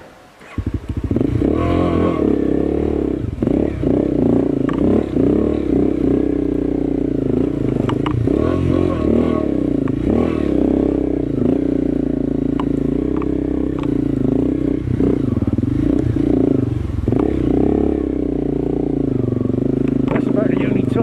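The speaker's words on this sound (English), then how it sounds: "That's about the only time you'll ever see a CRF do a jump turn when you're almost vertical on a mountain." Honda CRF dirt bike engine labouring on a steep, almost vertical mountain trail in Thailand, a loud continuous drone with revs rising and dropping throughout, mixed with clattering, scraping and a voice talking over it.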